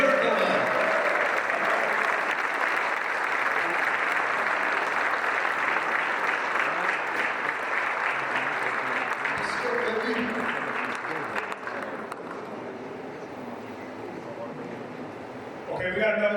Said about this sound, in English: Round of applause for Superman.